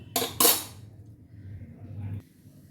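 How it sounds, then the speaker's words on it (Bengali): Spices being ground into paste on a stone pata slab: two sharp scraping bursts up front, then a steady low rubbing drone that continues at close range before fading. "এবার আমি পাটাতে বেটে নেব"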